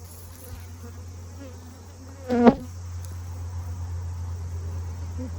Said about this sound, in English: There's like a ton of bees on this one.